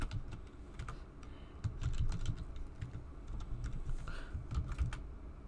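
A password is typed on a computer keyboard, producing close, quiet, irregular key clicks in quick bursts with short pauses between them.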